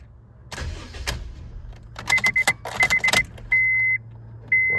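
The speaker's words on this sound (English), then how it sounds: "We'll see if my fucking starter grinds." A Honda Fit GD3 with a worn starter motor cranks its engine close by, a loud mechanical whir in short bursts with chiming warning tones sounding steadily between and after the cranking, and no talk.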